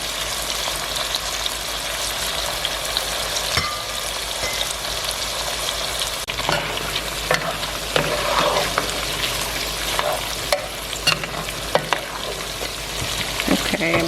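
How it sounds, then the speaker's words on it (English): Shrimp stew frying in a pot, a steady close sizzle and crackle running throughout with occasional stirring scrapes and small pops. "So I'm gonna let this fry for about 3 minutes."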